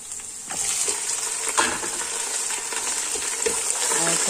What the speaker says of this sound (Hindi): अब हम इसमें डालेंगे चिकन